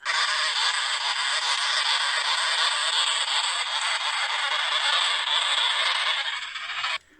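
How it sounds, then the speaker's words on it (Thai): A sugar glider's startled warning hiss: a continuous harsh, airy hiss for about seven seconds at steady loudness, then cutting off abruptly. "เสียงนี้นะครับคือเขาเรียกว่าเป็นเสียงขู่นะฮะ ก็คืออาการตกใจนั่นเองนะฮะ"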